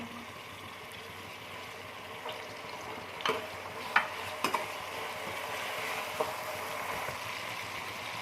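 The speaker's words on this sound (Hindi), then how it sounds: "अब मैं इसमें 1 टेबल स्पून जो है वो लहसुन का पेस्ट डालती हूँ और इसको फ्राई करती हूँ अच्छी तरह से।" Garlic paste and chopped tomatoes frying in a pan with a soft, steady sizzle, faint overall, punctuated by a few light scraping stirs and clinks.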